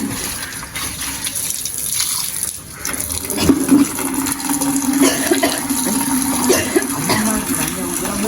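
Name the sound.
pouring water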